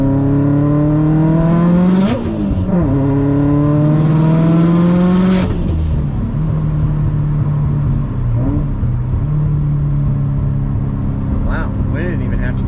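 A 760whp Subaru STI driven on a cold day revs hard through the gears, its engine tone climbing steeply, dropping at each shift and climbing again, loud and close from inside the car.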